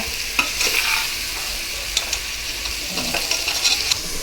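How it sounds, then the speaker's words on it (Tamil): A spoon gently turns paneer cubes through thick biryani masala in a pan, with soft scraping strokes over a steady low sizzle, close and moderately loud, no voices. "பன்னீர் வந்து பார்த்து உடஞ்சிடாமல் கொஞ்சம் கிளறி விட்டுருங்க"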